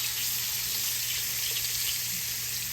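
A stuffed pork chop sizzling steadily in a hot pan just after being flipped, a close, even hiss of frying fat with no talk over it.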